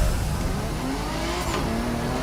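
A car engine drones and revs steadily in the racing game The Crew Motorfest, its tone rising slightly, with no one speaking.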